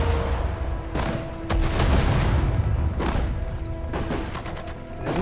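Battle sounds from the WWII strategy game Sudden Strike 4, Road to Dunkirk expansion: loud booming explosions and bursts of gunfire follow one another in a steady, close barrage with no voices.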